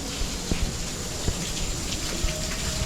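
Water flows and splashes continuously in a tropical botanical garden greenhouse in winter, a dense, even rushing like a fountain or stream with small drip-like ticks scattered through it.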